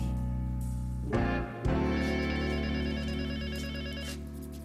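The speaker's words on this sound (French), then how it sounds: "Tu réponds pas au téléphone?" An electronic telephone rings indoors at a veterinary clinic in a sitcom scene, giving repeated trilling bursts with short breaks between them. It is fairly close and clear and heard alone with no voices.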